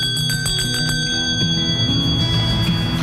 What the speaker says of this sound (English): the day would begin with the ring of the school bell, either from a simple bell tower on top of the school or a handbell from the teacher,